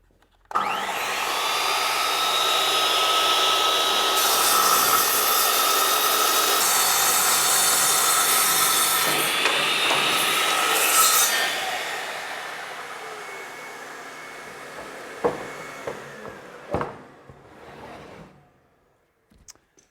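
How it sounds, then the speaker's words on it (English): A panel saw and router combo machine, used like a big sliding miter saw, spins up and cuts through wood with a loud sustained whine. It winds down, followed by a few sharp knocks and clatters. "we'll be ready to make a cut, and again using this like a big sliding miter saw"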